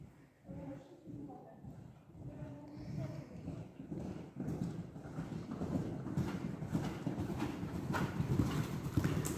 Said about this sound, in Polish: robimy zagalopowanie na lewą nogę za koniem czołowym Etna.